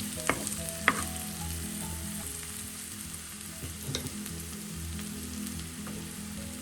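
Prawns and small shallots sauté in a pan with steady close sizzling and frying crackle, a few sharp spoon-on-pan clinks and stirring scrapes breaking through.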